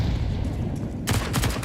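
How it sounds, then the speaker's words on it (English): Pistols firing in Counter-Strike during an economy round: a steady low rumble, then a quick run of sharp, loud shots in the final half-second. "Hear those pistols shooting"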